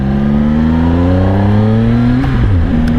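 A 2016 Triumph Speed Triple S motorcycle engine pulls hard under acceleration, its loud, close exhaust note climbing steadily in pitch before a brief dip and recovery near the end, with no voices present.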